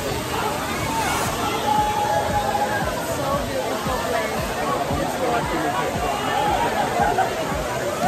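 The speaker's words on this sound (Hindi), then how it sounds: "आवाज़ आ रही नहीं आ रही है क्योंकि पानी की आवाज़ इतनी तेज है।" Kempty Falls roars as a steady, loud wash of rushing water, continuous throughout, with the murmur of a crowd chattering underneath.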